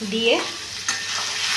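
A spoon stirs bottle gourd and prawn curry in a pan, finished with a little shahi garam masala and coriander leaves. Soft scraping and a low sizzle run steadily, close by, with one brief louder clack midway and a quiet word spoken.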